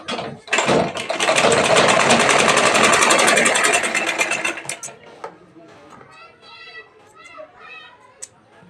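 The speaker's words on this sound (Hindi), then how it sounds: "इस पट्टी को ऐसे तिरछा रखकर सिलाई देंगे" A sewing machine runs in a loud, steady stitching burst for about four seconds while a diagonal piping strip is sewn onto a blouse, then stops, leaving faint handling clatter and brief background voices.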